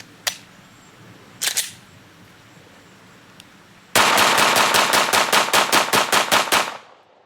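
Two single gunshots from RIP (G2 Research) ammunition fired outdoors into a pile of meat and bone on dirt, followed by a rapid, loud string of about a dozen evenly spaced shots that ends abruptly.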